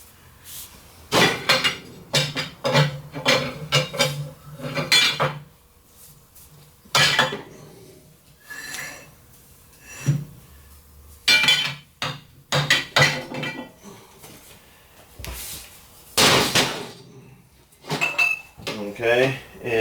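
A small spanner wrench works on a machine chuck during a chuck change, giving sharp metallic clanks and taps in irregular bursts with quiet gaps between them, close and fairly loud.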